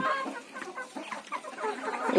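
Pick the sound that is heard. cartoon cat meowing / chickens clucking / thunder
chickens clucking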